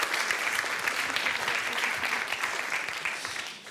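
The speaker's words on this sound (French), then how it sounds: "Je te laissais profiter des applaudissements." Applause from an audience at a debate on robotics and society, a dense, steady wash of many hands clapping at a moderate distance, fairly soft and continuous throughout.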